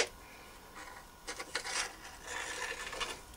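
Magnet motor rotor rolling down a sloped aluminium sheet, giving a faint, intermittent scraping rattle that comes and goes in soft bursts over a few seconds.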